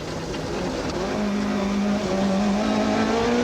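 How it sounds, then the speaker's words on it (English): Inside a Nissan rally car on rough forest roads, a steady engine drone with a rising, sustained tone fills the cabin, loud and close with road rumble beneath, no talk. "We join the Nissan crew in car and get to witness just how rough the forest roads are"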